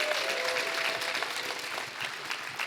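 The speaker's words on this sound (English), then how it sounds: "Guys, let's take a second to give a round of applause for the person who makes all these." A convention panel audience breaks into applause, a dense wash of clapping from a crowd in a hall. It starts strong, eases a little, and holds steady to the end with no speech over it.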